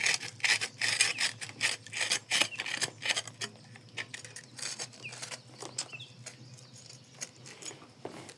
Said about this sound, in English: take a saw and cut around it to loosen it up